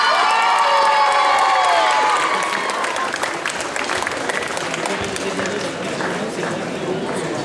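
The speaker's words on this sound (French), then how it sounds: "Sous vos applaudissements" A crowd at a cosplay contest claps and cheers loudly, with whoops and shouts over continuous applause; a few voices and tonal sounds stand out at the start before the clapping dominates.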